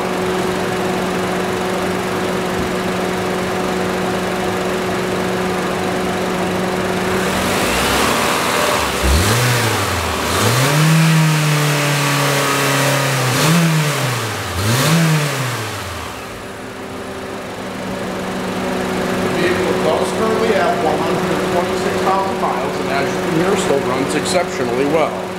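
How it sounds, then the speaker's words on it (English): A 2010 Honda Civic engine idles, then is revved in several rising and falling bursts up close, each climbing sharply before settling back to a steady idle with some background noise. "we're just going to rev the vehicle a little bit just so you can hear exactly how it sounds"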